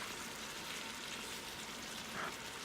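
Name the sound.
spiced ground beef keema simmering in pan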